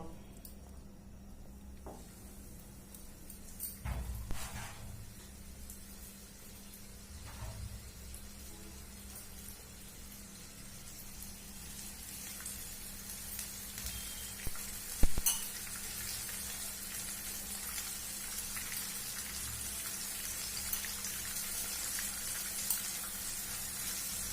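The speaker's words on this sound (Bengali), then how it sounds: "চুলায় তেল গরম হয়ে গেছে, আমি এখন চিকেন ফ্রাইগুলোকে আস্তে আস্তে ছেড়ে দেব" Chicken pieces fry in hot oil on a stove, giving a soft, steady hiss and crackle that grows slightly fuller as it goes on. A few faint clicks are heard, with no voices.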